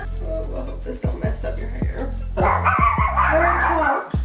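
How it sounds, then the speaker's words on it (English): Dogs barking at random in the background, a series of sharp barks repeating about every half second under a steady low hum, growing busier and louder toward the end. "There's dogs that randomly bark while you're trying to film?"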